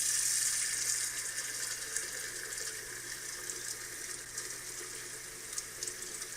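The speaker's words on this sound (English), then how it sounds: "Here is a running faucet." A faucet runs steadily, its broad, even hiss of water streaming into a sink holding constant and close throughout, with no voices.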